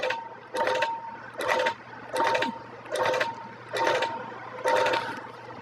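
A sewing machine couches thread along a fabric border, running in six regular bursts with brief pauses between, close and clear over a low steady hum, with no talking.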